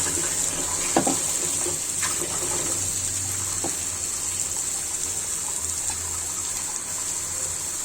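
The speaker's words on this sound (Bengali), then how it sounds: "ব্লেন্ডার জারটা একটু ধুয়ে পানি দিয়ে দিব।" A blender jar is rinsed under running water, with a steady gushing flow close by throughout and a couple of light knocks of the jar near the start, no voices.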